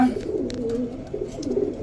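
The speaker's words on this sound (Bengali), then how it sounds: "দর্শক দেখেন কি সুন্দর একটা কবুতর" Pigeon cooing at close range, a rolling low coo repeated in short phrases with faint rustling; a breeding pigeon pair kept for sale by a Bangladeshi pigeon trader.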